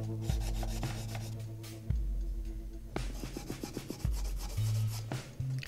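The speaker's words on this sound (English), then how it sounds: "that's just a nail file that I'm using there" A nail file rasps back and forth across the base of a large 1/8th scale Batman Dark Knight statue, close and fairly quiet, in short rhythmic strokes with brief pauses and no talking.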